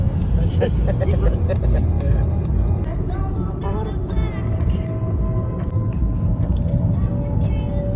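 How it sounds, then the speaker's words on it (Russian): A car driving on the road, heard from inside the cabin as a steady, loud low engine and road rumble with no break and no voices. "Так, друзья, мы едем."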